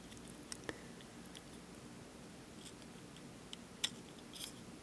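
Scissors trim away material while LED lights are fitted to model railway DCC locomotives. A few faint, quick snips sound against a quiet background.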